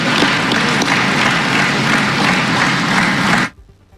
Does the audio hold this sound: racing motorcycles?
no